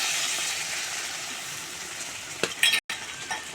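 A ladle stirring pointed gourd curry in a pan just after water is added, a bubbling hiss under scraping and a few sharp utensil clinks against the pan, with a brief cut near the end.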